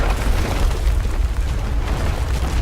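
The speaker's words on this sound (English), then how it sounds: "Always assume a dragon breathes fire." A dragon breathing fire in the King's Quest video game, a loud, sustained roaring rush with a heavy low rumble that holds steady for a few seconds.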